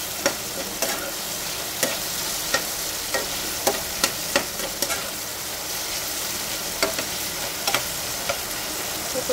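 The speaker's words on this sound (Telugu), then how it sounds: "ఇవి ఫ్రై అవుతున్నాయి" Okra (bendakaya) frying in a pan for an Andhra-style ullikaram, a steady close sizzle punctuated by regular sharp clicks of stirring, with no voices.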